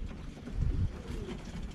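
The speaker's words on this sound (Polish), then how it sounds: "Tutaj są wszystkie samczyki lotowe moje w jednym gołębniku." Male racing pigeons coo nearby in a loft in low, soft, throaty bursts, one cooing phrase swelling louder in the middle against a murmuring indoor background.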